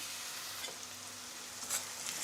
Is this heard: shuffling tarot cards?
no